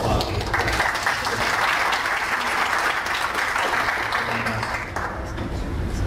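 Conference attendees at a software pricing panel discussion applaud the arriving panelists with a broad, even round of clapping that holds steady for several seconds before easing slightly near the end.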